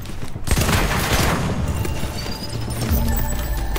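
Video game gunfire and grenade launcher explosions in a dense, loud burst of blasts and crashing impacts that continues without a break.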